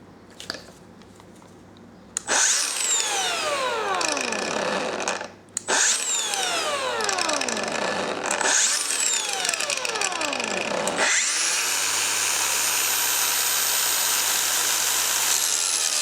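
Makita DGA504 cordless brushless angle grinder with disc fitted, loud whining bursts that spin up and wind down with falling sweeps, three starts then a sustained steady run, no voices.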